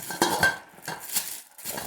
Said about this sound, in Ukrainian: Каструля сотейник. Так, кришечка до неї ось вона.